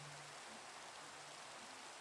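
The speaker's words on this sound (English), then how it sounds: "Why is it always raining?" Steady rain falls in Minecraft as a faint, even hiss of drops with no pauses or other sounds.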